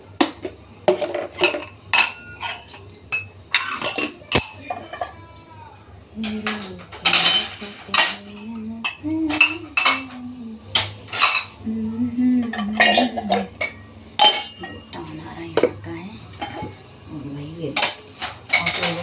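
Dishes, pots and cutlery clink and clatter in a home kitchen as they are handled, a busy run of bright metallic knocks and rattles, with someone talking intermittently over them.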